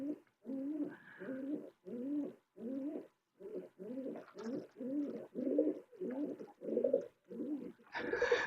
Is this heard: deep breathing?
no